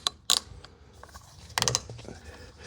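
A strap is pulled back through a cam buckle on an e-bike carrier rack, giving a few sharp clicks and a ratcheting, creaky pull, close and brief, with quiet gaps between.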